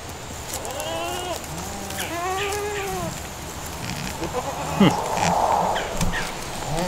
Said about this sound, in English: The goat said, yeah, we're hungry, come feed us.